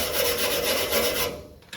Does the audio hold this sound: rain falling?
no